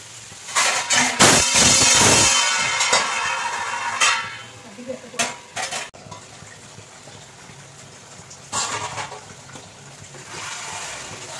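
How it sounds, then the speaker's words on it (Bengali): Mutton cooked with papaya paste is stirred in an uncovered pan, with a close scraping of the spoon, bursts of loud clatter and a soft sizzle underneath, alongside intermittent talking. "এবার ঢাকনা খুলে নিলাম, মাংসটা কষাচ্ছি।"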